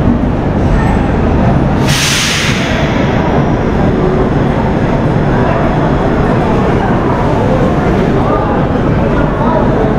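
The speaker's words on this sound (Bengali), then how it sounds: "দেখুন এটা দিল্লি স্টেশন নিউ দিল্লি এটা নিউ দিল্লি স্টেশন" The Rajdhani Express stands or rolls at New Delhi railway station, a loud continuous rumble and rattle of railway cars with a brief burst of air hiss near the start; voices are mixed into the din.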